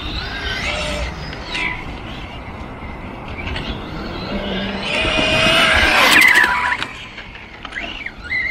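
A Reely RC car drives and brakes, its small motor whining and tires scrubbing over a rough, noisy outdoor bed, with a sharper screeching surge midway before settling again.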